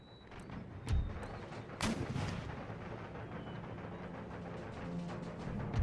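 Cannon artillery fire in the video game Empire Total War, a few sharp booming shots near the start followed by a low rumbling battlefield bed, fairly quiet overall.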